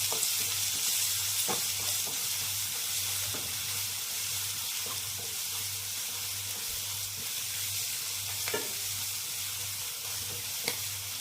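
Mutton spleen frying in a pan with spices being stirred in, a constant close sizzle with occasional scraping and tapping of the spoon against the pan, no talking.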